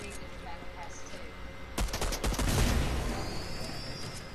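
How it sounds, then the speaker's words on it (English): Rapid bursts of gunfire strike a gas can in Fortnite, a dense crackling volley breaking out midway over a steady game background, loud and close. "Now you start shooting that gas can"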